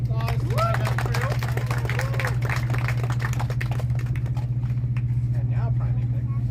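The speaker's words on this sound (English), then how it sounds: "Give a nice little round of applause to my gun crew" Scattered outdoor clapping for a cannon gun crew at a shipboard firing demonstration, light and uneven amid crowd chatter and voices, with a steady low hum running underneath.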